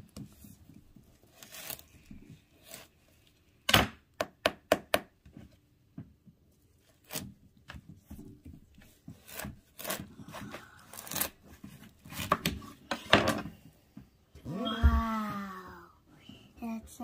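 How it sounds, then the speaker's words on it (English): A knife cuts into a huge homegrown watermelon at home, giving a few sharp close crunches and cracks among rustling handling noises, with people talking intermittently. "Go, let's cut it."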